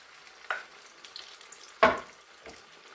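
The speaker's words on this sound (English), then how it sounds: "Once it sizzles like this, the oil is ready." A few drops of potato frittata batter for kuku sibzamini hit hot frying oil, giving short sizzling bursts, one sharp and louder than the rest, against a quiet background with no talking.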